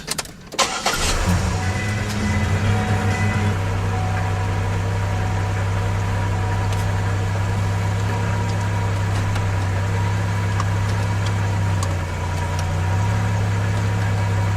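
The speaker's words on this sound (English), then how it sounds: "the gear shift lever is actually very hard to use. It's very hard to put it into gear." A 2006 Buick LaCrosse sits idling, its engine giving a steady, close, low drone that barely changes for the whole stretch while the gear shift lever is worked. No one speaks.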